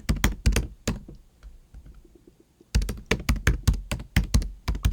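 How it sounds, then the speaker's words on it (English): Fast bursts of typing on a computer keyboard, entering a journal name into a search box: a clattering run of keystrokes, a pause with faint light taps, then another quick, loud flurry of keys, close up with no talk. "I'm going to type in Journal of Medicinal Chemistry"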